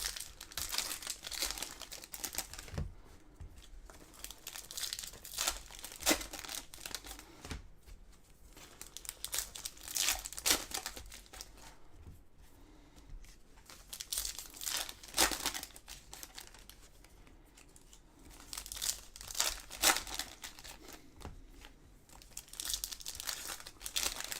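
Foil packs of 2023 Topps Chrome trading cards being torn open and crinkled, repeated bursts of crackling and ripping close by over a long stretch, without talking.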